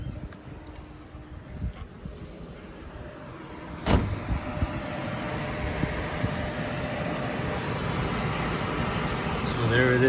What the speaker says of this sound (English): I'm gonna go ahead and turn the coolant fans on, just so you guys can see it.